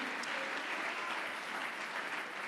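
A church congregation applauds loudly in steady, dense clapping that fills the space for a couple of seconds, with no speech over it.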